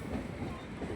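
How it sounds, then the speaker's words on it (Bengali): A commuter train on the Sealdah line rolls into a station with a continuous low rumble and faint rhythmic clatter of wheels on track, steady and moderately close. "আর বন্ধুরা আমাদের ট্রেন এসে পৌঁছালো নিয়ালিপুর স্টেশন।"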